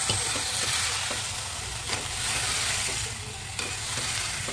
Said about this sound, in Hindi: एक मिनट के लिए इसको इसमें भून के ले लेंगे, सब मसाले इसमें मिक्स हो जाएंगे।